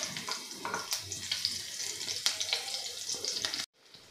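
Chopped garlic sautéing in oil in a pan for chicken bhuna masala, a dense continuous sizzle with crackling pops, close and fairly loud, stopping abruptly near the end.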